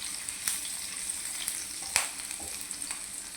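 Finely chopped garlic and green chillies fry in a small amount of oil in a wok, a steady close sizzle broken by sharp spitting pops and stirring clatter.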